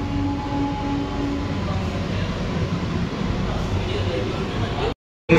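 Inside a Southern Railways AC local train running from Chennai Beach to Chengalpattu as it pulls away, a steady broadband rumble and hum hold at an even level before the sound cuts off briefly near the end.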